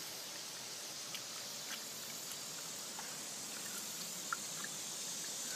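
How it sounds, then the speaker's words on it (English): Low water trickles and flows through Honey Creek during a drought, a faint, steady wash with a few soft drips and splashes standing out. "That's the flow through Honey Creek."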